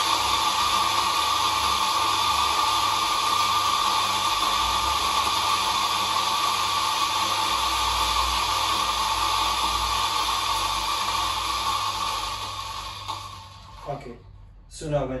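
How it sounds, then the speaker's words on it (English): A coffee grinder in a café bar runs steadily to purge leftover grounds from between its blades, a loud continuous whirring roar that holds for about twelve seconds before winding down and stopping. "if you have some leftovers, and you will have in the grinder, between the blades, just purge it out"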